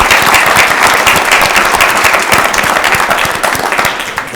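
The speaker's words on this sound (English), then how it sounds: "big round of applause for Kellen" Loud, close applause from an audience at a pitch competition for Kellen: a thick, energetic mass of clapping that stays strong and tapers a little at the end, with no one speaking.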